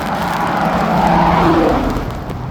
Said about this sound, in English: this kind of white car drifting over already